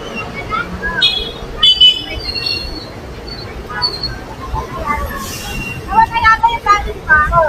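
An Ayala MRT metro train in Manila rumbles past with squealing wheels and screeching rail tones, loud and nearby amid street noise, with people talking over it.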